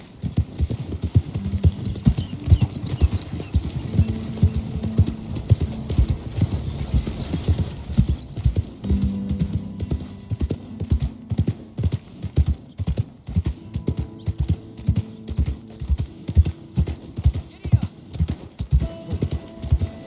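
A horse in Red Dead Redemption 2 clip-clops along in a steady, close hoofbeat rhythm, with low game music and occasional voices underneath.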